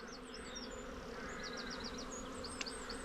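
Honey bees buzzing steadily around an opened hive during an inspection, a dense, continuous drone with a few individual bees whining close by.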